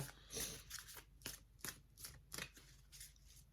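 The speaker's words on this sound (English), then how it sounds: "we'll give these a big shuffle" Tarot cards being shuffled in quick, papery riffling bursts, a repeated flutter of bridging and cascading, fairly quiet and close with no talking.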